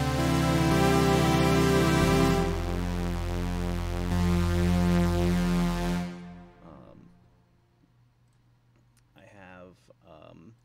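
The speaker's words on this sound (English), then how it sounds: "This is the Prophet 5 synth," A Prophet 5 analog synthesizer plays sustained, rich chords with a steady bass tone, loud and up close for about six seconds before cutting off, followed by quieter scattered voice sounds.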